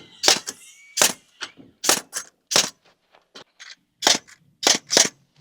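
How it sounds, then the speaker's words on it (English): Sharp hammer strikes drive nails into wooden wall framing, about ten loud, close cracks in short irregular bursts, with brief quiet gaps between groups of blows. "If it's a little crooked, nail your low side first,"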